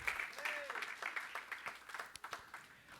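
A church congregation claps their hands in a quick, uneven burst of applause, moderately distant, with a voice faintly heard among the clapping.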